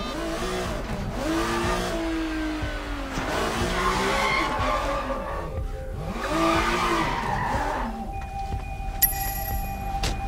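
A car drives and skids in the Sleeping Dogs video game, with a loud, continuous engine drone and repeated rising and falling tire squeals in long sweeping waves. A brief electronic chime sounds near the end.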